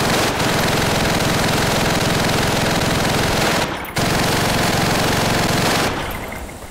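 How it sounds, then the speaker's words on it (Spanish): Sustained rapid bursts from a German machine gun in Call of Duty 3, loud and dense, with a brief pause near the middle before the fire resumes and then cuts off near the end. "¡Usad esa ametralladora alemana si es preciso!"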